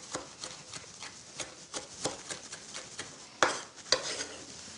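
A spoon scrapes and clacks through mussels in a pan as chopped parsley is mixed in, giving irregular taps and clatters over a low sizzle, close up with no talking.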